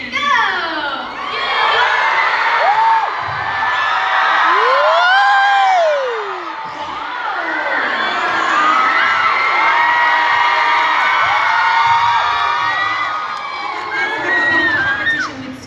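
Concert crowd screaming and cheering loudly in a scream competition at a K-pop show, a dense sustained wall of high shrieks and whoops with rising and falling swells across the whole stretch.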